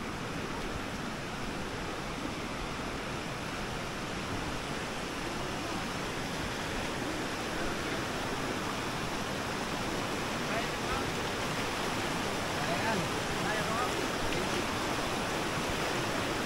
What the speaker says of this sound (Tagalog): Lakas talaga yung agos ng tubig